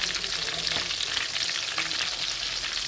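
Steady, close sizzling of food frying in hot oil over low heat, a continuous crackling hiss with no voices.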